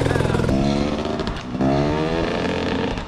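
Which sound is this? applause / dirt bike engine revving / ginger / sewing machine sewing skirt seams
dirt bike engine revving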